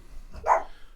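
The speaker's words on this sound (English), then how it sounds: "New doggy loves to bark when people come over" A single short dog bark, a new pet reacting as someone comes home, sounds faint and slightly distant in a quiet room.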